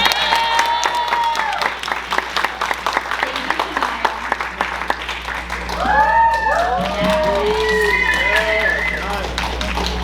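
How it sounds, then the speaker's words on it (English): Applause and cheering at a Korean club dinner fill the room, with clapping mixed under excited voices, whoops and chatter throughout, swelling again toward the middle. "can everyone give a round of applause for Shania?"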